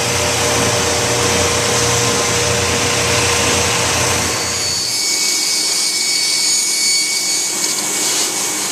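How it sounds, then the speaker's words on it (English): Wide belt sander running wood veneer through, a loud steady roaring whir that drops in its low rumble partway as the load changes, continuing alone without talk. "So when I run these through the wide belt sander, the piece of veneer doesn't slide off."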